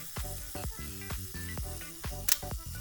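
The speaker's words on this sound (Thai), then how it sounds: "ขึ้นชัตเตอร์ กดทาเมอร์ กดชัตเตอร์" A Yashica Electro 35 rangefinder film camera's self-timer whirs and ticks in a steady mechanical rhythm, close up and alone, ending in a crisp shutter click.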